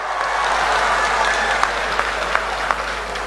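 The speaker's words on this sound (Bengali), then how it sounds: "কেশৱ মহন্তৰ জন্য একটা বড় হাততালি" Crowd applause at a public event for a new medical college, dense and sustained clapping from a large audience with a few sharper claps standing out.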